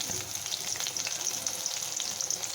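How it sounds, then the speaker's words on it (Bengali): Chopped onion, chopped chili, chopped ginger and garlic paste frying together in hot oil for an egg puff filling, a steady close crackling sizzle with no talking. "তেলটা একটু গরম হয়ে গেলে তার মধ্যে পেঁয়াজ কুচি, লঙ্কা কুচি, আদা কুচি আর রসুন বাটাটা দিয়ে ভালোভাবে ভেজে নেব"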